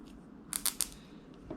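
A SOG Aegis FL folding knife snaps through a plastic zip tie with a few quick, sharp clicks close to the mic, followed by a faint tap, in a quiet room.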